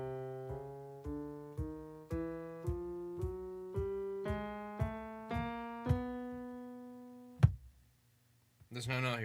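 Piano keys play a rising series of single notes, about eleven evenly spaced strikes each ringing and decaying, followed by a sharp knock and a short burst of noise after a silence.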